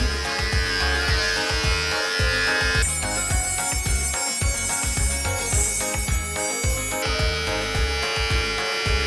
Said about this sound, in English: that starts with shaving my head